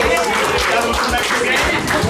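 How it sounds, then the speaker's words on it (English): Kids and adults at a luncheon for a summer enrichment program clap in a dense, steady round of applause, with talking and voices mixed in throughout. "let's give a round of applause"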